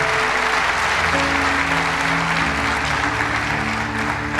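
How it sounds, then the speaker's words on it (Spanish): A church congregation applauds steadily and loudly, a dense wash of clapping that holds evenly throughout before a brief bump at the end. "Denle un aplauso al Señor"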